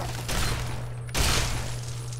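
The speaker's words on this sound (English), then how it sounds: "Use our trusty shotgun." Two heavy shotgun blasts in the video game Fallout 3, each a loud broadband burst with a short ringing tail, about a second apart, over a constant game hum.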